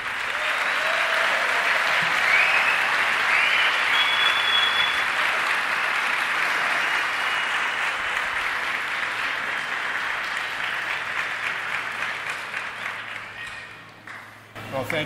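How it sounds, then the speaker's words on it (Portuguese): A large audience at a 2024 missionary conference gives a sustained, dense round of applause to welcome a guest speaker, steady and loud before thinning out near the end. "E eu gostaria que vocês recebessem com uma salva de palmas bem brasileira"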